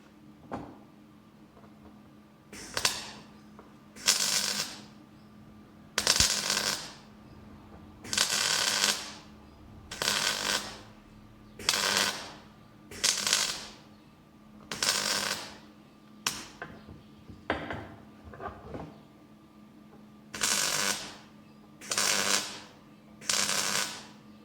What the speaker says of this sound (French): point de soudure